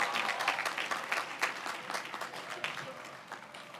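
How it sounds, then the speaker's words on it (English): An audience at a college of environmental design commencement applauds students, a dense crackle of many hands clapping that gradually thins and softens toward the end. "Please applause for our outstanding students from each department."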